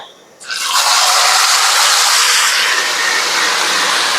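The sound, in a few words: marinated beef added to hot fried-onion oil for biryani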